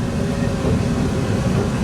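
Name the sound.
London Underground train starting up, heard from the cab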